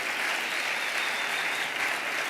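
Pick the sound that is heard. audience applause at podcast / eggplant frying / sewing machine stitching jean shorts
audience applause at podcast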